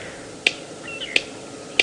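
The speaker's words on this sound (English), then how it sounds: "they use their bills to make these loud sort of not clapping noises, but bill clattering." A bird clatters its bill on a morning safari drive, three sharp, isolated clacks spaced roughly two-thirds of a second apart over a quiet outdoor background.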